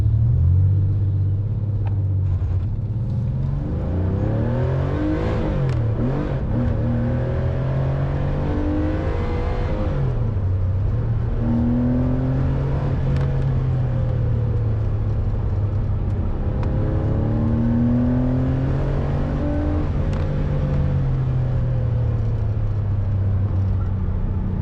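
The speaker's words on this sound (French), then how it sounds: "on va faire le petit test de on démarre, on accélère" A Porsche 911 964 3.8 RS circuit car's engine, heard up close and loud, rumbles and revs throughout, with the pitch climbing and falling in repeated pulls and no voices over it.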